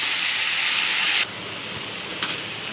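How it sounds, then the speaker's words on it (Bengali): A pressure cooker cooking dal lets off a loud, steady steam whistle and hiss that cuts off abruptly after about a second, leaving a softer lingering hiss with a brief flare near the end. "এদিকে দেখো ডালের সিটি হয়ে গেছে আমার।"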